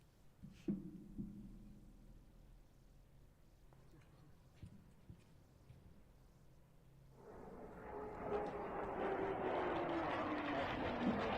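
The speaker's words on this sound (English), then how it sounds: "Su-25s flying low over western Kyiv" Su-25 jets fly low over western Kyiv: after a few faint clicks and a brief voice, a broad jet roar swells in and stays loud and rushing through the final seconds.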